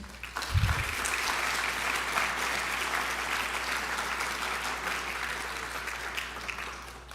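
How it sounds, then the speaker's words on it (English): A high school awards assembly audience claps in a steady, dense wash that holds for about seven seconds and fades slightly at the end, with a low thump near the start. "give these guys a round of applause"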